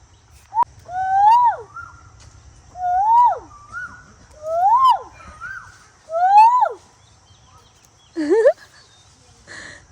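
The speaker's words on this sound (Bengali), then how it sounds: "দেখো দেখো দেখো পাখি ডাকতেছে।" Four similar bird calls, clear rising-and-falling whistled notes repeated at steady intervals, then one different sharper call, close by against a quiet background.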